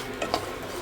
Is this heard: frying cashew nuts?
yes